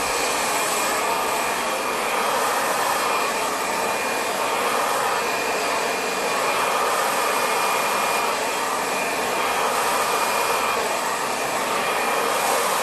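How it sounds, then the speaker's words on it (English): A hair dryer blows steadily and loudly throughout while a round brush works through above-shoulder hair, the broadband roar continuous with no talking. "so I use my thumbs to hold the dryer and brush"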